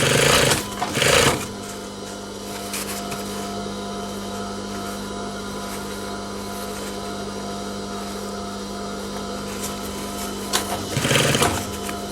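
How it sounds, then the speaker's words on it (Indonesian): A sewing machine stitches a collar seam in one long, steady, rapid run, its motor humming without pause, with short louder clatters at the start and the end. "kita tinggal mengikuti jahitan pertama yang kita buat"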